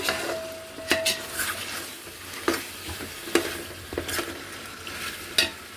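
Frying in a pan for chicken dum biryani, a continuous close sizzle broken by regular sharp scrapes and clanks of a spoon stirring against the pan.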